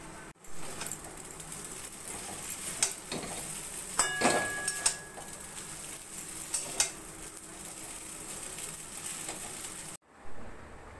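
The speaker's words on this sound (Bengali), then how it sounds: "এইভাবে ছড়িয়ে দিয়ে নাড়াচাড়া করে গ্যাসটা বন্ধ করে দেব।" Veg hakka noodles tossed with black pepper and lemon juice in a pan on a gas stove, with soft sizzling and a few spatula scrapes and clinks, fairly quiet, then a short break near the end.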